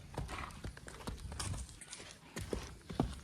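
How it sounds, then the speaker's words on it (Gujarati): A mare's hooves clip-clop steadily on hard ground, close and fairly loud, in an irregular walking rhythm with a few sharper knocks. "જો ઘોડી નીકળી"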